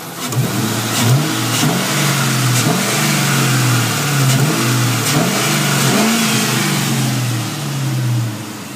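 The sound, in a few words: 2002 Mustang GT engine running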